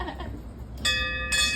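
A bell is struck outdoors at a festive gathering, two bright ringing tones with sustained overtones starting partway through and again near the end, fairly close over a low background murmur.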